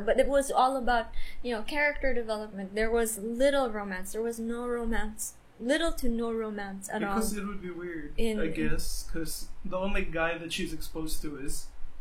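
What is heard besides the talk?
No everyday noises stand out.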